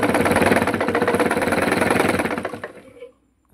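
Sewing machine driven by an attached electric motor runs steadily with a fast mechanical whir and rhythmic needle chatter, loud and close, then winds down and stops near the end.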